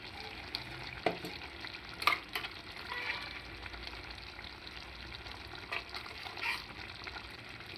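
Mushroom curry with masala being stirred in a hot pan, a steady close sizzle with intermittent scraping clinks of the spoon against the pan, no talking.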